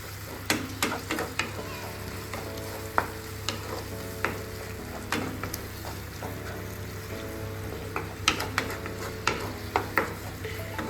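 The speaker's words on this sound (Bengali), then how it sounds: "এর মধ্যে দিয়ে দিতে হবে 3-4 চামচ আদা এবং রসুন বাটা, এবং সেটাকে লো ফ্লেমে নাড়িয়ে নিতে হবে, ভালো করে ভেজে নিতে হবে।" Ginger garlic paste frying on a low flame while a spoon stirs it, giving a steady soft sizzle with a low hum and irregular scraping clicks from the pan throughout.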